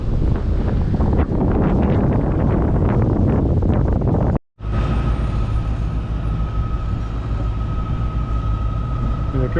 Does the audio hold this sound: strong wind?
yes